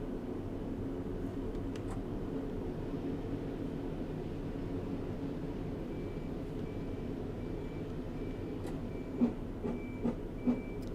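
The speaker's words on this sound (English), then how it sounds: "I'm now going to shut off the power here at around 20 miles per hour and make sure that I've braked down to 15 before we cross a point" A Class 150 style train in Train Simulator 2018 coasting and braking on the Blaenau Ffestiniog to Llandudno line: a steady low rumble of wheels on rail with faint cab beeps and a few soft clunks near the end.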